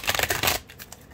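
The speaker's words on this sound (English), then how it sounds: "let me shuffle one more time" Tarot cards shuffled by hand: a quick run of crisp, papery riffling and flicking for about half a second, then near silence with a few faint soft card taps.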